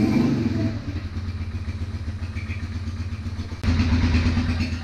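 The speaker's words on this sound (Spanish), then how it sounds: "ya encendimos la motocicleta, ahorita lo dejamos a ralentí" An Italika FT150 motorcycle engine idles steadily and close by, with a low throbbing pulse throughout and a brief jump in loudness near the end.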